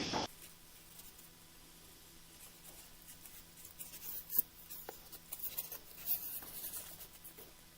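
Quiet scratchy strokes of a marker on the foam of a Freewing FA-18 RC jet come in short uneven bursts, with a sharp tap near the start and soft rubbing in between.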